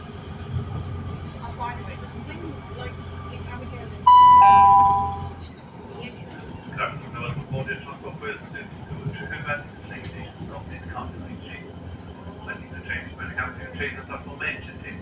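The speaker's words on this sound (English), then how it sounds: "You may all appreciate the sounds of this train." A passenger train rolls along the rails, a steady low rumble heard from on board. A brief tone sounds partway through, followed by rhythmic clicks and rattles, with faint voices in the background.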